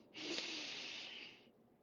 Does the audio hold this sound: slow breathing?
yes